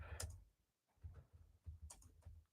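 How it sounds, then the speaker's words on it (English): Computer keyboard keys clicking in short quiet bursts, a quick cluster near the start and scattered taps after a brief pause, faint and close with no talking. "that typing coming on."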